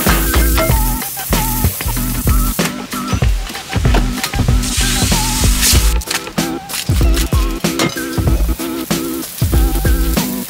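Lunch cooks at a camper trailer, with crackling frying mixed with many sharp clatters and knocks of utensils and cookware, busy and close throughout.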